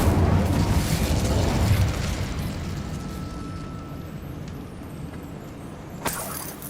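An Incendio fire spell cast in a video game bursts out as a loud, booming rush that fades over a couple of seconds into a low rumbling bed, with a sharp small pop near the end.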